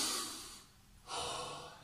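Deep breaths during a children's home cardio workout: a long, close exhale, a short pause, then another strong breath, audible and unaccompanied by talk.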